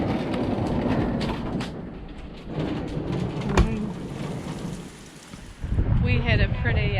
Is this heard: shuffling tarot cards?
no